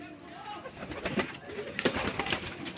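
Domestic pigeons coo close by in soft, throaty bursts, with someone speaking quietly in the background.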